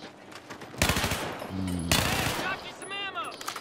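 Shotgun fire in a video game, with two loud, close bursts of gunfire and their echoing tails, mixed with a voice talking excitedly.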